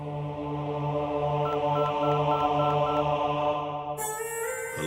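A sequence of telephone keypad dialing tones, short evenly spaced beeps over a steady ringing hum in a political action thriller film scene, ending with a louder burst of sound.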